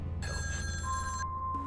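Telephone ringing in a Halloween 4 movie scene, a bright electronic ring that sounds loud and steady for about a second over a low background hum, then breaks off into a brief lower tone.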